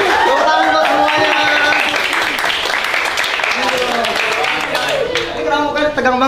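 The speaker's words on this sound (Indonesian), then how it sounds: "Tepuk tangan buat semuanya." High school students in an Indonesian classroom clap briefly while voices and shouting carry over and around the patter of hands, with the talk dominating much of the scene.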